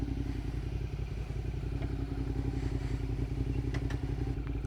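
A Suzuki SV650 motorcycle on a test ride gives a steady, throbbing engine drone with a fast pulsing beat and occasional light clatters and knocks, close and continuous, with no voices.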